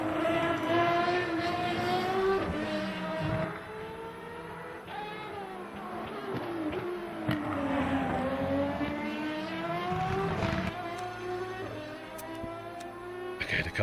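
A race car engine in the Le Mans Ultimate racing game roars steadily and loudly throughout, its pitch climbing and dropping through gear changes and revs, with harmonic whines sweeping up and down and no talk.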